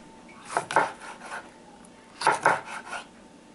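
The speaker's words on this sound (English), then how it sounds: "I'm going to chop this pretty fine" A knife works finely through a hot pepper on a cutting board, giving two short clusters of quick, close taps and scrapes separated by quiet.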